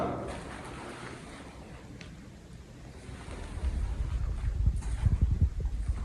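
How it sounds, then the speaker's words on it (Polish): Steady wind blowing and gusting, with a low rumble that swells and grows louder toward the end, no voices present. "jakby tutaj coś stukało, ale to mówię, wiatr wieje"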